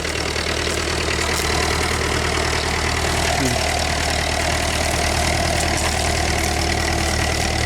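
A tractor's engine idles steadily in a field during ploughing, a loud, close, continuous chugging rumble with a constant rhythmic knock throughout.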